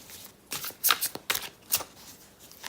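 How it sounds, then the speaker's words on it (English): A deck of tarot cards is shuffled up close in several crisp riffling bursts, each a short papery flutter, quiet and alone with no voices. "Just going to start shuffling."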